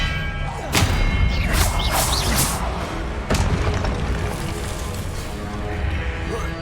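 Expelliarmus spell cast in Hogwarts Legacy, with a whooshing magical burst and deep booming impacts over a dense game soundscape, a few sharp hits spaced across several seconds.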